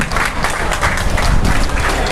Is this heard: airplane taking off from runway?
no